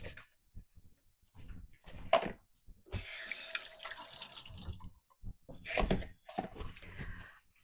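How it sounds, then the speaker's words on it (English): A kitchen tap runs in a steady broadband rush while hands are rinsed under it, with brief clatters and dripping bursts around the stream, fairly close and moderately loud, no talking. "Let me rinse my hands."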